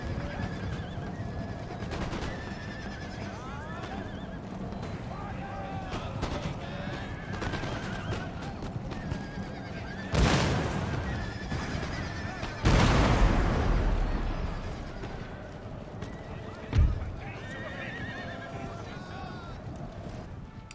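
Cavalry horses in the Empire: Total War strategy game whinny repeatedly over a battlefield. Hoofbeats and booming cannon and musket fire run underneath, and someone talks over the action throughout.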